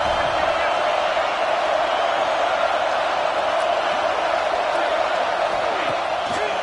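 A football stadium crowd sends up a continuous, loud, wash-like roar of cheering that stays level throughout, with a voice audible over the crowd.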